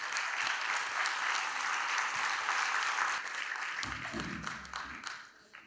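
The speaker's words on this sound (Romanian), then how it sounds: "Aplauze, vă rog." An audience at a gala claps in sustained, dense applause that fills the hall, with a brief low rumble near the end as it begins to fade.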